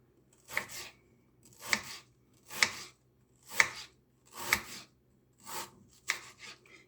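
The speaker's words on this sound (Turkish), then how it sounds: "Şöyle şöyle bir kalınlıkta kesiyoruz." Onions sliced with a knife on a board for a tomato-onion salad: six evenly spaced, crisp chops near the mic, each a sharp cut with a short scrape, separated by clear silence.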